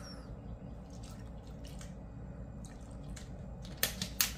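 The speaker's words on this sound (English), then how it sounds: "I'm going to cover it with water" Water trickles and drips into a cup over a spoonful of instant coffee. The sound is quiet at first, with a few sharper splashes toward the end.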